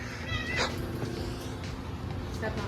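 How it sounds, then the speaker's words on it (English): A cat that has just been stepped on yowls and meows loudly and close by in a garage where engine work is going on, with a few drawn-out caterwauls over background noise. "I stepped on a cat."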